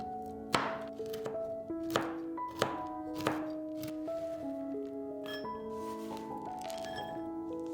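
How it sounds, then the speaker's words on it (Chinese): Pecans or other nuts chopped with a knife on a cutting board: a handful of sharp, evenly spaced thunks close up at first, then quieter cutting under steady background music, with no talking. "100克碧根果或者其他坚果切碎"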